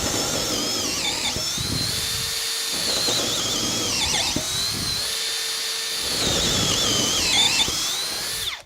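Makita hammer drills boring holes on speed 2, high whining motor bursts with pitch dips under load, separated by short pauses.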